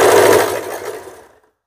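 A sewing machine stitches fabric in a short, loud, close burst of rapid mechanical whirring that slows and fades to a stop within about a second and a half.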